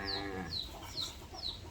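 Chicken clucks in a rural setting: four short, sharp calls repeat at an even pace over a busy background, with a brief harmonic call at the start.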